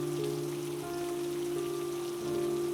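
Steady rain patters on a surface at night near a pond, a continuous soft hiss with faint droning tones under it as an eerie cartoon backdrop.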